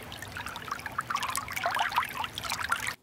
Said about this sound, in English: Yeah, that was running water.